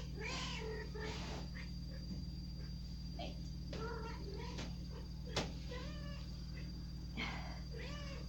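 One-week-old kittens meowing, a series of thin high mewls repeating every second or so over a steady low electrical hum, fairly close and clear.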